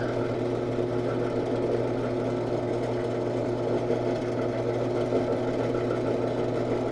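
A lapidary polishing machine runs steadily on a Missouri agate sample, a continuous droning hum with a buzzing, motor-like texture that stays even and fairly loud for the whole stretch, with no talking.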